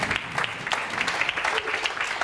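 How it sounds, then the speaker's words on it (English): Scattered audience clapping at a stage event announcing results, sparse individual claps with an uneven rhythm, fairly close and moderately loud. "A round of applause, please."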